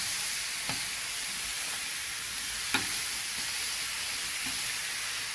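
Thin onion burgers fry on a GrillGrate, a steady bright sizzle hissing continuously with a few soft scrapes and taps as patties are flipped, close and even in level.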